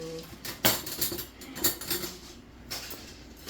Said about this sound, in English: Stir it all in there.